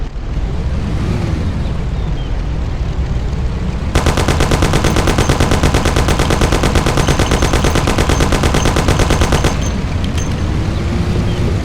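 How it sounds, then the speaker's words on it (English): Thompson submachine gun fire in the Mafia video game, a rapid sustained automatic burst of about six seconds, loud and close, set between engine and vehicle noise with no voices. "Take my Thompson. You and Sam shoot them."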